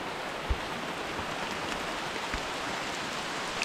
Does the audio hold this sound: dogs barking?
no